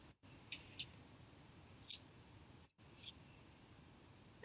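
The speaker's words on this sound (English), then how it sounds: "you can just use your scissors and cut off whatever yarn is left." A few quiet, crisp snips of scissors cut through yarn, spaced apart over a faint steady hiss.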